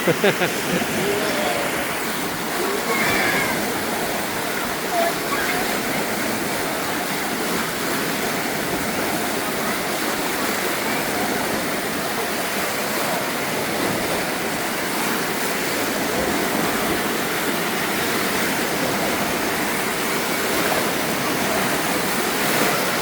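Artificial waves in a thermal spa wave pool at Zsóry in Mezőkövesd, Hungary, a continuous loud rushing wash of water with no breaks, close to the listener.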